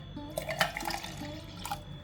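Water is poured into buttermilk to dilute it, a faint, close, splashing trickle with a few soft drips.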